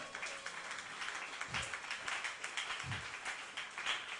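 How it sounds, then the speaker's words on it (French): A church congregation applauds during a worship service, with faint, somewhat distant clapping that comes in loose bursts and keeps going for several seconds. "Applaudissez Père Jéhovah"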